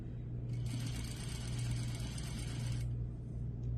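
A sewing machine whirs in a steady burst of stitching over a low motor hum, sewing a Peter Pan collar facing, then stops while the hum continues.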